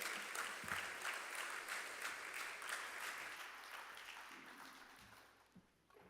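Audience applause welcoming Jamaica's Minister of Agriculture, Fisheries and Mining at an agri-business investment forum, a steady dense clapping that carries on for several seconds and gradually thins toward the end.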